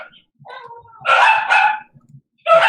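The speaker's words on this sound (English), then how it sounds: "Someone has a really loud dog." A loud dog barks several times at close range, with a whine-like sound first and then sharp barks in quick bursts.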